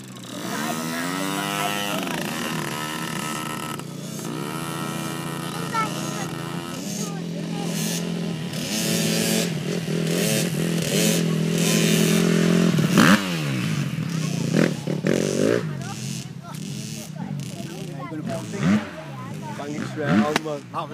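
A KTM 250F dirt bike climbs a hill, its engine buzzing and revving continuously at varying pitch throughout, with people shouting and talking over it.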